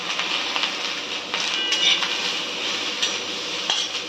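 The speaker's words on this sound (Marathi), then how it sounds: "आता हे सगळे मिक्स करून व्यवस्थित भाजून घेऊया" A spice mix with red chillies roasting in a pan and stirred continuously, giving a loud, steady hiss of dry sizzling under repeated close scrapes and light clinks of the utensil.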